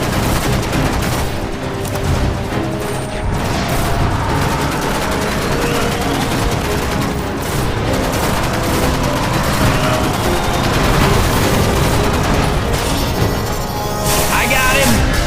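Dense, continuous gunfire in the video game Destiny, loud rapid bursts and booms packed together for the whole stretch with almost no pause between shots.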